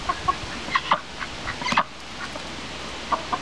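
Chickens cluck in short, scattered calls close by, a few overlapping bursts over a steady outdoor background hiss.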